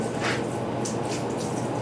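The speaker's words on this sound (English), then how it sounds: "pour that in, and then use the broom to kind of agitate and spread out the remover" Adhesive remover is poured onto a floor being prepped for laminate, a continuous wet splashing and trickling pour that stays fairly loud and even throughout.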